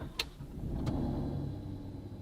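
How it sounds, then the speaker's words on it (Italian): An Alfa Romeo Stelvio Quadrifoglio 510-horsepower SUV engine starts after a sharp door thud and click, settling into a low, steady idle rumble that carries close and moderately loud. "Chiudo la portiera, accendo la macchina."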